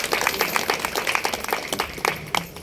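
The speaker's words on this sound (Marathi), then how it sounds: "म्हणून सगळ्यांसाठी या चौघांसाठी एकदा जोरदार टाळ्या होत्या." An audience at a devotional kirtan gathering claps loudly for four performers, a brisk, uneven burst of many close hands that thins slightly toward the end.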